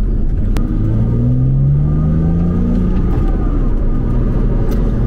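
A Porsche Boxster S (987) engine, running on ethanol, rumbles loudly and climbs in pitch as it accelerates, heard from inside the cabin with steady road noise.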